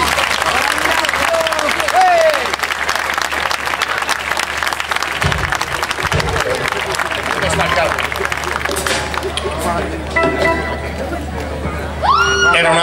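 Audience applause at a live presentation, a sustained wash of clapping with crowd murmur mixed in, loud and continuous throughout, with a brief whistle-like tone near the end.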